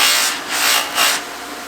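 A mammoth tusk kitchen knife handle is buffed on a flap wheel with polishing compound, giving a steady close rubbing hiss that swells twice in slow strokes, with no voices.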